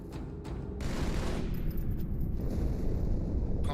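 A huge explosion tears through the ship Athens in the video game Halo 2, a deep sustained rumbling roar with crackling bursts, loud and dense, with no speech.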